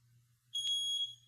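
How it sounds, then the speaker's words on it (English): A household smoke alarm sounds a single loud, shrill electronic beep lasting about half a second, ringing out alone over a low steady hum in a quiet indoor room. "oh, my smoke alarm is going off."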